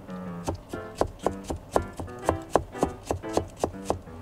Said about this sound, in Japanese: 斜めの薄切りにしたら、あとは縦に細切りにしていくだけですね